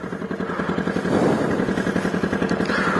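A motorcycle engine with its exhaust just come loose runs close by with a rough, rapid, clattering putter and a steady pulsing beat.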